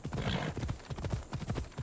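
A horse gallops in Assassin's Creed Odyssey, rapid rhythmic clip-clop hoofbeats that stay close and steady throughout the short burst with no talking.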